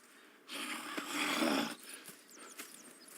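A horse snorts and whinnies up close in a Red Dead Redemption 2 town setting, one strong burst followed by softer breathy snuffles and faint shuffling.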